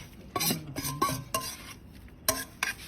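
Grilled beef being stir-fried in a pan: a metal utensil scrapes and clanks against the pan in irregular bursts, roughly six knocks with short gaps, loud and close, over a faint sizzle and no talking.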